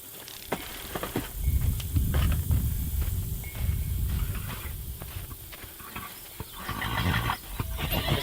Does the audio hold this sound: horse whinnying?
yes